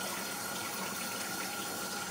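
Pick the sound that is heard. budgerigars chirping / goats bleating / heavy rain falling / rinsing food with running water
rinsing food with running water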